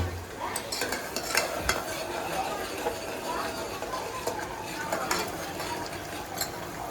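Pav bhaji gravy cooking in a pan, with steady stirring scrapes and a low sizzle running throughout, close and fairly loud, with faint background voices.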